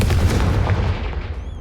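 A Confringo fire-blast spell bursts in a Hogwarts video game, a loud booming blast with a heavy low rumble that decays over under two seconds, followed by a faint high magical shimmer at the tail.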